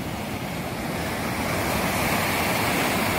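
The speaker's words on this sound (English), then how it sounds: "Humongous waves, crazy undercurrent that will suck you out there unless you're an Olympic swimmer" Large ocean waves pound a steep-shelving beach in Mexico, producing a continuous loud roar of surf with wind buffeting the microphone, swelling slightly toward the end.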